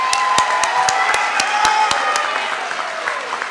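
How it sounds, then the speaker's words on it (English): Graduation ceremony audience giving a round of applause, dense clapping with a few loud nearby claps at the start, holding steady and then thinning slightly toward the end. "Everybody give Sherman a round of applause."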